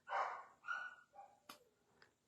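Several dogs bark and yip in a quick run of about five calls, fairly close and tapering off, alone with no talk.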